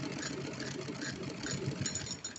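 A sewing machine stitches a folded ribbon onto a small dress, its motor whirring in a steady close rhythm of rapid needle strokes.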